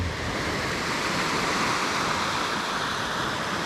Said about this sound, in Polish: Szum fal, który porywa większość.